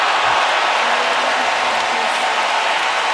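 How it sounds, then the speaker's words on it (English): A tennis match crowd applauds and reacts in a steady, dense wash of clapping and murmur that holds at an even, loud level throughout. "listen to how the crowd's reacting to it"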